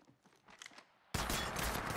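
Sudden burst of rapid automatic gunfire in the Apex Legends video game, loud and sustained after a quieter stretch of faint in-game sounds.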